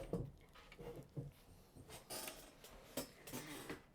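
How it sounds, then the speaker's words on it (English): A domestic sewing machine set to a zigzag stitch, 1.25 length and 3.5 width, runs across quilt fabric in faint, uneven bursts of mechanical clicking and whirring with short pauses between, no voices. "now we're going to go to the sewing machine, and I'm going to sew this for you."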